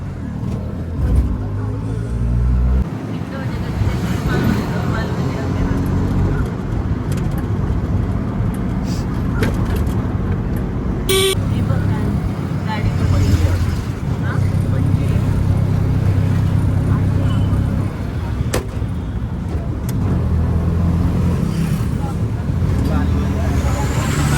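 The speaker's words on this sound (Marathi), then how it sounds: "रिक्षा मिळालेली आहे" A shared auto rickshaw's engine hums and revs steadily throughout a ride near Kudal in the Konkan, with road noise and occasional passing traffic around it.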